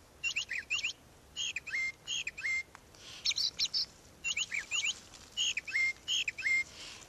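A brown thrasher sings a played recording of short, repeated phrases, each a quick cluster of sharp chirps and whistles separated by brief pauses, clear against a faint background hiss.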